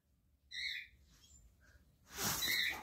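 A pet bird whistles indoors with a couple of bright, short tonal calls, a quick double whistle near the start and a softer one after, followed by a burst of louder broadband noise.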